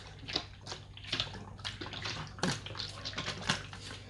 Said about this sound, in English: I'll give it a little good shake for the boys.